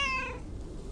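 A cat meows in the video game Lake during a festive holiday scene: one short, clear meow that falls in pitch and fades quickly.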